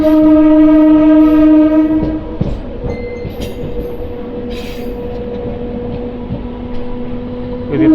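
MEMU passenger train 67284 on the Nidadavolu to Bhimavaram Junction line, a loud sustained horn blast giving way to steady rumbling running noise and rattling carriages, with brief squeals.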